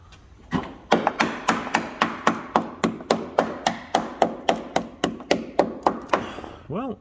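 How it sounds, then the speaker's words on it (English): A screwdriver probes the rusty body of a high-mileage Alfa Romeo GTV V6 in a rapid, even run of about twenty sharp metallic taps close by, and a short vocal sound follows at the end. "Well, screwdriver didn't go through,"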